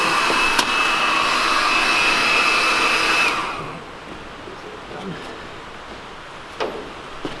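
A hair dryer blows loudly for a few seconds in a garage where an RX-7 is being painted, then shuts off, leaving a quiet room with faint bumps and movement.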